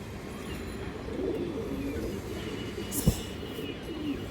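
A silver female pigeon coos softly in low repeated murmurs, close but quiet, over a steady background hum with a brief knock partway through.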